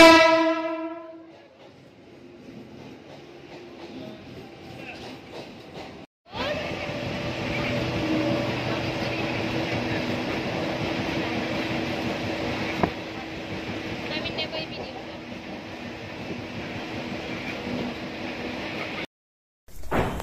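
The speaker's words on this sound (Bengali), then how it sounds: "আর এখানে ট্রেনটা এসে আমি ভয় পেয়ে গেছি।" A train arrives at Kalna station, opening with a loud horn blast that fades, then a long steady rumble of railcars rolling close by, with a brief dropout midway.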